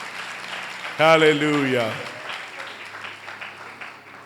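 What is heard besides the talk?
applause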